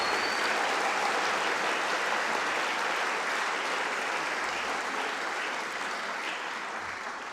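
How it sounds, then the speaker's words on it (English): Sustained applause from a large graduation ceremony audience, a dense steady clatter of many hands clapping that slowly tapers toward the end. "Can we have a huge round of applause, please,"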